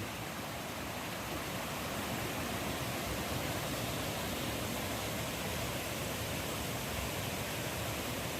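Steady, broadband rushing of Nang Rong Waterfall in Nakhon Nayok, Thailand, constant and fairly soft, heard from a short distance with no talking.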